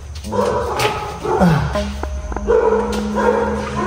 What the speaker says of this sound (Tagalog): So, may aso yata dito, sarado natin ito.